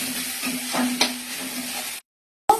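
Steady sizzling of uttapam batter frying in a pan with a couple of utensil scrapes, then a brief silence before the sizzle resumes.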